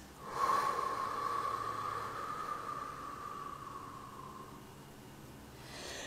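A single slow breath drawn in through the nose as a soft, airy sniff, then eased out in a long, gently fading exhale, close and quiet with no talking.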